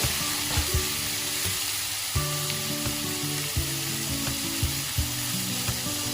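Curry leaves and tomato sizzle in a pan while being stirred, with regular scraping strokes over a steady frying hiss, close and moderately loud with no talk, for a Marathi sprouted moth bean usal.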